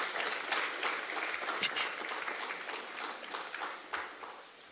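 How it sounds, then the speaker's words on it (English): Quiet, distant applause from an audience at a youth parliament relaunch event, a soft patter of scattered clapping that fades slightly over about five seconds. "give her a hearty round of applause"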